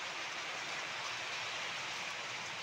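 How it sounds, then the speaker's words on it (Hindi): Rain falls steadily in a mountain village, a soft, even hiss of drops with no pauses, faint and continuous throughout. "बारिश पहुंच चुकी है और यहाँ पे भी शुरू हो चुकी है बारिश।"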